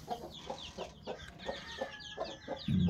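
A flock of twelve guinea fowl in a poultry coop keeps up rapid, rhythmic chattering calls, several to a second, near and clear, ending with a dull thump.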